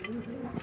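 Breeding pigeon cooing, a brief soft low coo, faint and close.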